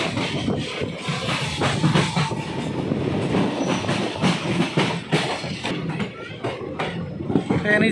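The Ambala Delhi Intercity Express rumbles along the tracks near Modi Nagar station, a loud, steady rolling roar with rhythmic clickety-clack and occasional clanks, heard from inside the moving train.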